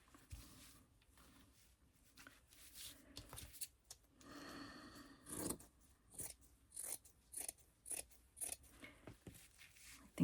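Scissors cutting through a leftover piece of fabric for a patchwork journal cover, giving a series of close, crisp snips and crunchy slicing strokes in uneven bursts, without speech.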